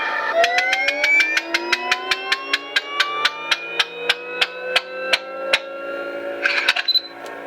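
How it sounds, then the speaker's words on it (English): A lightsaber's Calibrate sound font plays its fine-tuning effect: a fast train of evenly spaced ticks over slowly rising electronic tones, loud and close, finishing in a brief burst of clatter. "you get sounds as if you were working on fine-tuning your saber"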